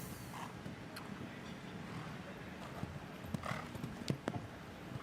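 Hooves clip-clop steadily over a background of traffic noise, with occasional sharper knocks, moderately distant.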